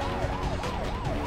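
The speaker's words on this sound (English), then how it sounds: "Why is this ambulance moving? So fast." A wailing ambulance siren from the Spider-Man: Web of Shadows video game rises and falls in steady repeated sweeps, loud and continuous over a dense rumble of city traffic and game noise.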